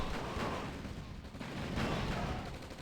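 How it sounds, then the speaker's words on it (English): Continuous rattling gunfire and explosions from infantry and tanks in a real-time strategy battle in OpenRA Red Alert, a steady dense barrage with no pauses. "Gunning down all my infantry"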